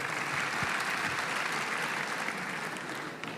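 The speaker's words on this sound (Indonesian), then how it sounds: "tepuk tangan sekali lagi" Sustained applause from a large audience at a ceremonial speech event, steady dense clapping that fills the whole stretch and tapers slightly near the end.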